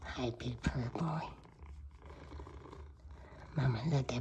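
A cat purrs with a low, continuous rumble, heard clearly in the pause between bursts of close, affectionate talking.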